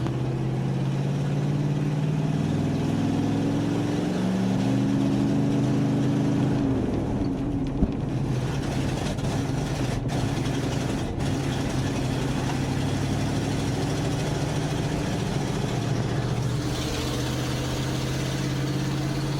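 A 1964 Dodge D300 truck pulls away in second gear, its engine a steady low drone with a rising tone at the start, loud and continuous throughout without talk.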